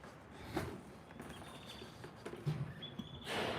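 Faint hoof clops and shuffling of horses moving on a barn floor, with soft rustling and a distant bird chirp in the background.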